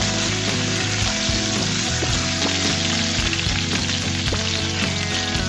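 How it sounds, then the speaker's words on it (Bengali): Potatoes frying in a pan and being stirred, a loud constant oil sizzle broken by scraping and clattering of the utensil, close up with no one speaking. "এই পর্যায়ে আমি আলুগুলোকে আবারও নেড়ে চেড়ে দিব।"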